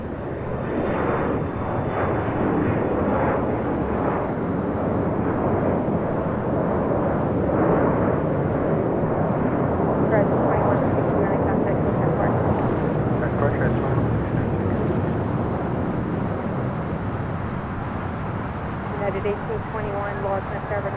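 An American Airlines jet takes off from runway 25 right at LAX with a continuous loud, broad engine roar, steady throughout and close by.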